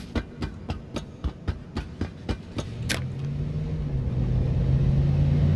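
In the video game H1Z1, a series of rapid, evenly spaced thumps gives way to a rising car engine hum and rumble as the car approaches and grows louder.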